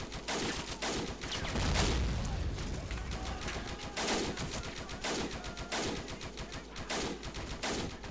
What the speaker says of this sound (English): get our machine gun set up